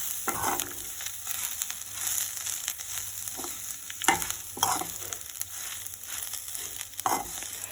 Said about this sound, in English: after adding the coconut, we have to fry for 1 minute